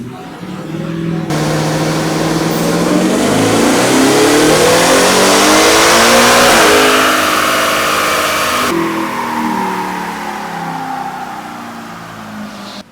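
A tuned Ford Raptor R with a Whipple-supercharged 3.8L engine does a dyno pull, rising from a low rumble to a loud sustained roar and then easing off, close and continuous for about thirteen seconds.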